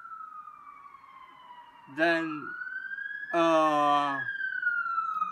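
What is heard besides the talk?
police car siren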